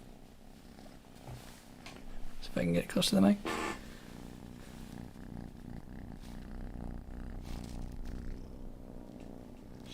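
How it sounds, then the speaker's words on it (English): A pet cat purrs in a low steady rumble close to the microphone, continuing under a person's talking and some handling noise. "She's a pretty loud purr."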